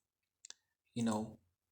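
A mouse button gives two quick, light clicks while drawing with the Bezier pen in Inkscape, followed by a brief burst of close voice.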